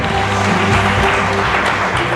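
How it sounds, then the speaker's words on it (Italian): An audience at a beauty pageant in Bojon, Venice, applauds in a brief, dense burst of clapping that holds steady, with a low hum beneath it. "Un applauso veramente a tutti gli sponsor"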